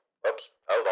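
Two quick dog barks from a sound effect, close and clear, with a short gap between them and nothing else around them.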